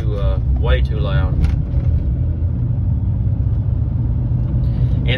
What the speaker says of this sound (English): Might hear the roar of the tires.